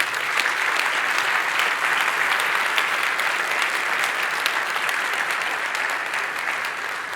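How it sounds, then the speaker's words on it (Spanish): Steady applause from an audience fills the whole stretch, dense and even, fading slightly near the end. "para su familia, pido un aplauso esta noche."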